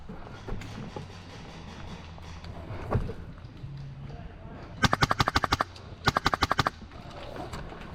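Airsoft gun firing rapid bursts outdoors at a bunker game field, two quick clusters of sharp snapping shots in the middle, with scattered single shots, distant players and faint talk around.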